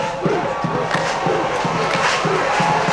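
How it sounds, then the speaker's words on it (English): Large crowd cheering and shouting at the 2003 South Pacific Games opening ceremony in Fiji, a loud continuous roar of many voices with rhythmic chanting pulses throughout. "And the crowd absolutely soaking up every moment of it."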